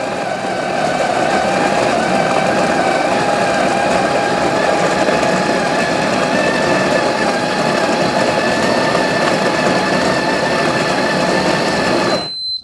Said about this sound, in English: Then you're simply going to hit the start grind. It's going to take the whole bean coffee.